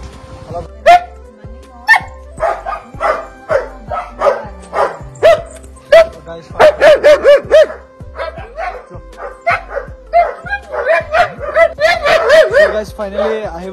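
Dogs bark repeatedly at a breeder's premises in Guwahati, Assam, with short yips and barks scattered throughout while people talk nearby.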